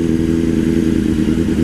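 A motorcycle picks up speed while riding, its engine drone steady and loud and close, with no voices.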